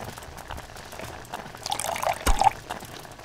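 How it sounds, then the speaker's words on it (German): Oil poured into a kitchen sink in the Deponia adventure game, a soft liquid trickle that swells into a brief splashing gush midway, then tapers off. "wir können mal das Öl einfach mal so, wie es sich gehört, in die Spüle kippen"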